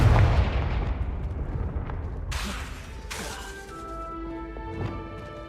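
A Confringo spell blast in the video game Hogwarts Legacy goes off as a loud, sharp explosive burst with a crackling, booming tail, then fades into a ringing magical shimmer.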